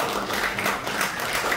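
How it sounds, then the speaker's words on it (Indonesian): An audience applauding a performer, dense steady clapping from many hands that holds at an even level, with no voices over it. "tepuk tangan teman-teman."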